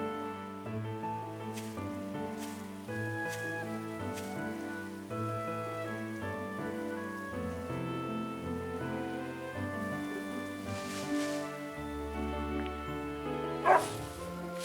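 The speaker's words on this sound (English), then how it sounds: "Oh, the dog. It's a shaggy dog." A shaggy dog barks in the video game Another Code: Recollection, with short barks mixed into continuous layered game music and a sharper burst near the end.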